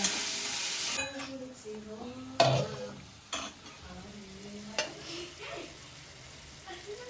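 Puris frying in hot oil in a home kitchen, a steady soft sizzle with a few clinks and stirring knocks from a pan, occasional louder splashes as dough goes in.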